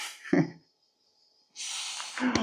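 A short, sharp sneeze near the start, then a brief pause followed by breathy noise and rustling.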